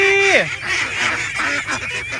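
Free-range domestic ducks honk and quack in a loud, close cluster of overlapping calls, several birds sounding one after another in a busy farmyard chorus with no talk.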